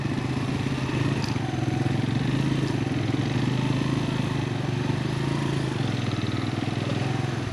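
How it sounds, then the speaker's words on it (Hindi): An engine drones steadily and loudly throughout as a vehicle approaches on a narrow, dangerous mountain road in Kashmir's Neelam Valley, with no clear rise or pass. "वो आगे से गाड़ी आ रही है, इसको गुजर जाने तो फिर आगे गुजरते हैं"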